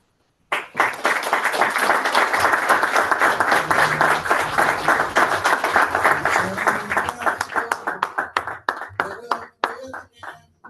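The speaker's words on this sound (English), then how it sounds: "More applause." An audience at a Toastmasters club meeting claps, with a sustained burst of close, dense applause that thins into scattered individual claps before stopping.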